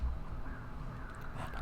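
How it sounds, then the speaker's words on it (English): Faint crows caw in the distance in a video game over a low rumbling background, a few brief calls with no one speaking. "we can hear the crows outside."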